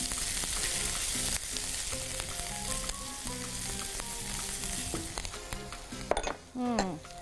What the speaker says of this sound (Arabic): ده بالفراخ بالبصل المكرمل بس، تشويحه كده بسيطه